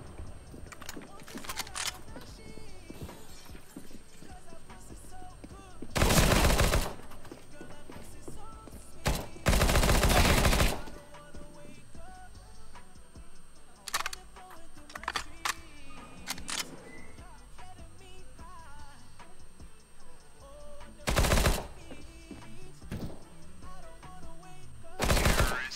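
Video game gunfire, scattered loud bursts of automatic shots spread through a busy soundtrack, with several long sustained volleys standing out against quieter game noise and chatter.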